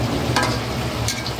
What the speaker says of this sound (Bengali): লেবু দিয়ে ভাজছি, আদা রসুন দেওয়া আছে